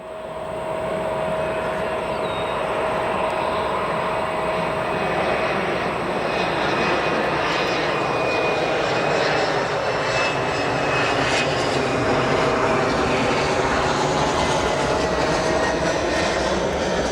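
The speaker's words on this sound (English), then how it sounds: "CRJ 550 arriving." A CRJ 550 regional jet arriving at O'Hare Airport gives off a loud, steady, broad jet roar with faint whining tones that holds without a break throughout.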